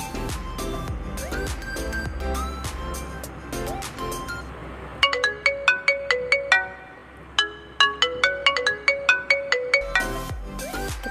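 A melodic phone ringtone plays in repeated bright, plinking notes, with a busier musical stretch at first and then clear chiming phrases, fairly loud and close.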